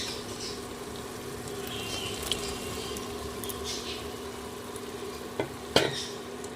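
Paneer sizzles softly in a pan of well-fried spice paste with chili paste. A steady, quiet frying hiss runs throughout, broken near the end by a couple of faint spoon clinks.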